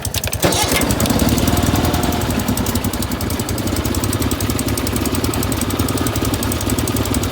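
An old SS engine, freshly valve-adjusted, catches within the first half second and then runs loud and close with a rough, rapid, knocking idle that stays steady to the end.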